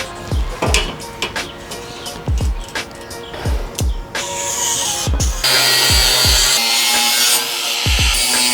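Sheet metal being cut for a race car build, first a series of loud, close, irregular snips and clanks, then a sustained harsh grinding rasp over the last few seconds.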